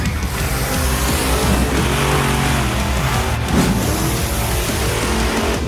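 A 12,000-pound monster truck roars loudly and steadily, its engine close and constant with a brief surge midway, no talk over it.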